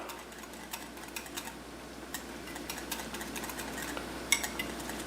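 Egg and cream get mixed together in a bowl, heard as quiet, irregular light clicks and taps of a utensil against the dish over a faint background hum, with no talking.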